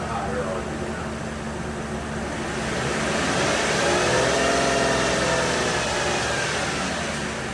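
A car engine runs loud and steady as it is held at higher RPM, a continuous close drone that swells slightly in the middle.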